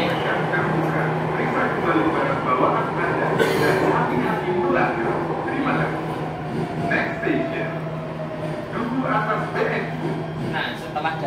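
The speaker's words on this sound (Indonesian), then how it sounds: "perjalanan saya menaiki kereta MRT ini" Jakarta MRT subway train running, a steady rumbling roar of the carriage in motion with a low hum and clattering, while people talk over it.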